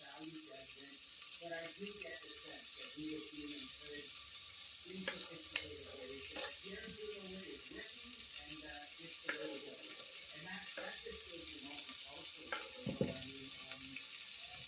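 Finely cut onions frying in a pan hiss in a steady, soft sizzle, with scattered light clinks and stirring scrapes throughout and no talking.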